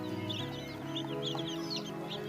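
Baby chicks in a brooder during hot weather, with soft cheeping and clucking chirps scattered continuously and fairly close, over a steady low background hum.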